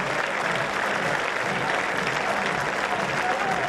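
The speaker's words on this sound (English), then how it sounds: "he gets a nice round of applause from his fans" Steady applause from a crowd of fans greeting a player coming off the field at a state championship high school baseball game, a dense, even patter of many hands held at a constant level throughout.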